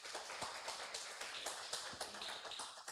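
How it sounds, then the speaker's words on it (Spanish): A church congregation applauding during a Spanish-language worship service, steady dense clapping with rhythmic accents, heard fairly faint and somewhat distant. "Démosle un aplauso al Señor,"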